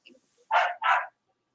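A dog gives two short, loud barks in quick succession, close by, with a few faint yips just before and silence afterward.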